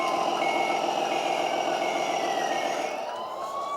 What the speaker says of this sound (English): So we do have reversing lights and sound as well. So let's check out the sound and light system in the back.